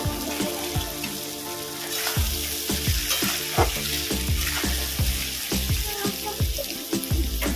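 A fish bhorta mixture of lote fish and chopped green chillies fries in a pan, with a steady sizzle broken by frequent sharp scrapes and clacks of stirring, close and loud, with no talk over it.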